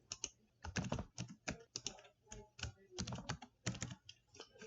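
Someone types a customer's zip code and name on a computer keyboard while entering a quote. The keystrokes are close and crisp, falling in quick irregular bursts separated by short pauses, with no voices.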